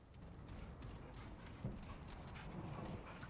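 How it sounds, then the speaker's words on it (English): Horse hooves galloping in the video game Remnant 2, a steady muffled clip-clop rhythm running under a dense low rumble of ambient game noise throughout. "I just thought there's a horse galloping behind me"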